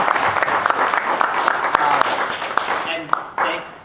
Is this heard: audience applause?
yes